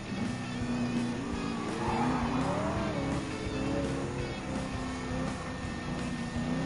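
American muscle cars, including a 1969 Chevy Camaro, racing in Gran Turismo 7, their engines droning and revving steadily at moderate distance with pitch rising and falling as they accelerate, under a continuous mix of road and tire noise.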